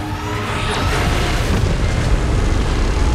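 Godzilla firing an energy beam, a loud, roaring boom-like blast that swells and rumbles continuously, heavy and close.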